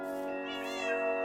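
A tamed cat in the Minecraft video game gives a single drawn-out meow, close and clear with a bright, steady tone.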